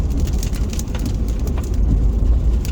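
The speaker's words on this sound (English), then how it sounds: "If we get out from underneath this rain cloud," Rain drums steadily on a car, a dense, continuous patter across the roof and windows with low road rumble underneath as it drives through a rain cloud on a long trip through the Yukon, Canada.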